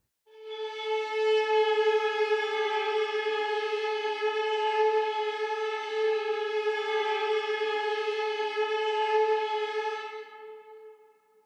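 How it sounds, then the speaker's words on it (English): Low strings playing a siren patch from the Liikkuva Scandi string library, a sustained rich harmonic tone swelling in, holding steady for about ten seconds with slight rising and falling sweeps, then fading out alone. "One other patch that I need to mention before I go on is the sirens patches."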